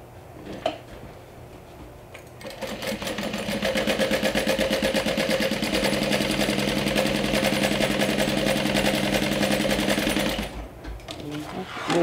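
A sewing machine stitches water-resistant canvas and lining together along the top edge, running in a steady, rapid mechanical chatter for about eight seconds after a brief start, close and loud, with quieter handling sounds before and after.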